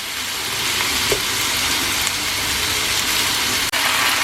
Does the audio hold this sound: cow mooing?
no